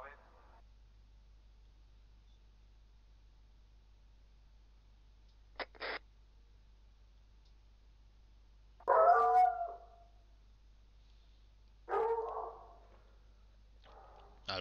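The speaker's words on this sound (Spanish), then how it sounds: "Está nervioso el perro por el salto." A nervous dog aboard an airplane gives two short, mid-loud howling bursts with pauses between them, plus a brief click earlier, against a quiet low cabin hum.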